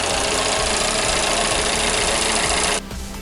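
A Fiat 500 engine idles loudly and close by, a steady rhythmic mechanical knock with a fan-like rush on top, until the rush drops away sharply near the end while the low idle continues.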